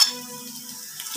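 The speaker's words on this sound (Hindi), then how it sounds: "प्याज का और अदरक का तड़का, तो इसको फ्राई करते हैं" Onion and ginger fry in a pan for saag, giving a steady, close sizzle that stays even for about a second with no talking over it.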